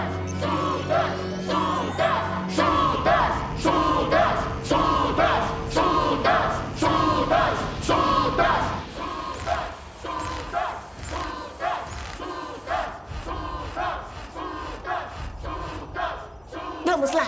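A stadium crowd in an animated football show roars and chants in rhythmic pulses, loud and continuous, with thumping beats under the noise and a voice calling out at the start.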